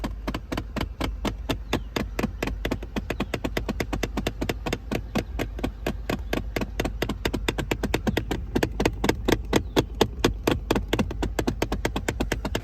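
Rapid, continuous mechanical clicking and popping from a stripped blend door actuator in a 2010-2014 Ford F-150, evenly repeated like a stripped gear skipping, over a low engine hum.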